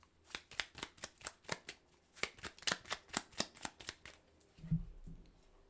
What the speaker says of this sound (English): So let's get to pulling a clarifying card for the Star card.